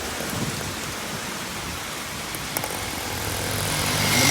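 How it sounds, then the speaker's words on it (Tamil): Heavy cyclone rain from Cyclone Fengal pours down in Chennai, a steady dense roar of rainfall at a bus stand that swells louder toward the end, with no voices. "மழை ஸ்பீடு ஏறிட்டே இருக்குது. தூரல் ஆரம்பித்த மழை அடித்து நவுத்துது."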